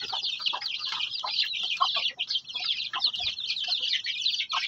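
Naked neck chickens clucking on a farm, a close, busy run of overlapping clucks and soft calls that go on throughout without a break.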